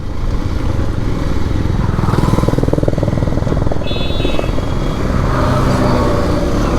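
A nine-year-old Bajaj Pulsar 150 motorcycle engine revving hard while accelerating in second gear, a loud, steady, close buzzing drone that climbs in pitch, with a brief high whine partway through and no talking.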